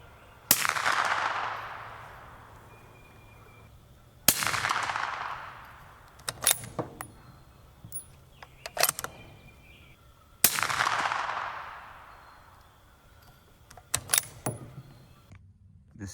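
A suppressed 6.5 Creedmoor rifle fires subsonic 135 grain A-Tip match rounds: three sharp reports, each with a long decaying tail, spaced several seconds apart, with fainter clicks and clatter of action cycling between shots, no talk.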